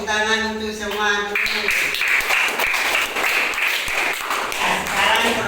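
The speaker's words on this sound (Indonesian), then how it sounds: "Tepuk tangan untuk semua." Students applaud in a university teaching-practice classroom, a dense wash of clapping that follows a brief voice and carries on steadily to the end.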